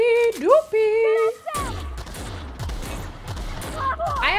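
Grenade launcher fire in The Outer Worlds video game, a string of regularly spaced low thumps and blasts after a tonal, voice-like sound at the start, loud and up close.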